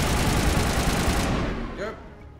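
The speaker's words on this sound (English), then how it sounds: "And now, assault rifle." Rapid automatic assault rifle fire in the video game Mass Effect Legendary Edition, a loud dense burst running for over a second before cutting off, leaving a fading tail and a brief electronic effect.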